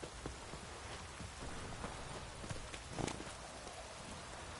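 Steady rain in The Witcher 3 video game hisses and patters continuously at low volume, with faint thuds and hoofbeat-like knocks from a horse mixed in.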